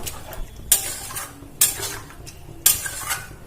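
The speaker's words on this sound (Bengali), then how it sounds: "দিয়ে আবার ভালো করে নাড়াচাড়া করে নেব" Potato and bitter gourd getting stirred in a pan with a little water for a Bengali bitter gourd dish, with three sharp scraping clatters of a spatula against the pan and soft swishing in between, close up with no talk.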